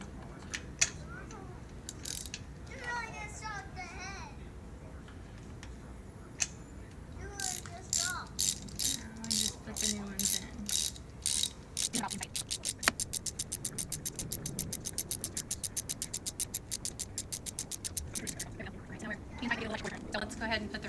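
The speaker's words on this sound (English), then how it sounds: "Switch your ratchet." Ratchet wrench clicking while parts go back onto a 2008 Scion tC during misfire repair; a short burst of clicks is followed by a long, steady, rapid run of close, crisp ratcheting, with some speech around it.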